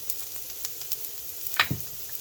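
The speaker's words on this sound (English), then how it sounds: "so I'm just gonna fry these up as well. Put a little oil on there, get these sauteed" Leftover onion and vegetables sauté in a little oil on a griddle, giving a close, light crackling sizzle with small irregular pops and one brief louder stir or scrape.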